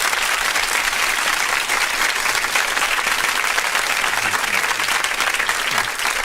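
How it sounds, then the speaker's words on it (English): Sustained round of applause from a studio audience welcoming a guest into a radio-show room, dense steady clapping throughout with no pauses. "let me give you a round of applause there"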